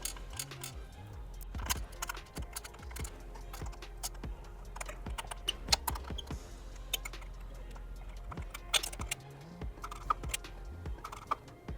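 Bolts are tightened on an RMaxx modular trolley sled in a Rivian gear tunnel, making quick, light ratcheting clicks in irregular bursts, fairly quiet and close.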